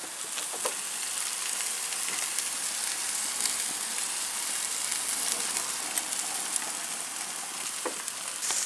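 NY strip steaks lightly seasoned with steak spice fry in a pan, a steady, close sizzle with soft crackles and small pops running evenly throughout, no talking.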